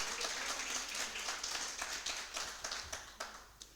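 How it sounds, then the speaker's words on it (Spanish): A church congregation claps together, the claps merging into soft, fairly distant applause that turns into a rhythmic clapping pattern. The applause is quiet and carries on for several seconds with no talking. "De un aplauso al Señor."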